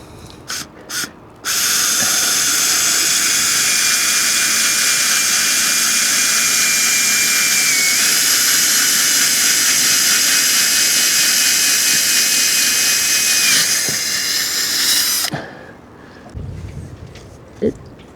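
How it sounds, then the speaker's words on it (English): A power drill whines loudly and steadily for about fourteen seconds while drilling the deck of a Catalina Capri 26 sailboat, starting abruptly after a few short bursts and cutting off sharply, followed by faint handling noise. "I'm just going to drill over here."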